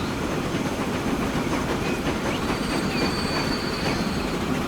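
Trains running in the video game Transport Fever 2, a continuous rumbling roll of rail cars with rhythmic clickety-clack and thin wheel squeals on top, steady and fairly loud with no talking.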